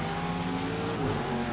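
GTD race cars lapping Daytona during practice for the Rolex, a steady sustained engine drone with tonal harmonics, fairly loud and continuous with no voices.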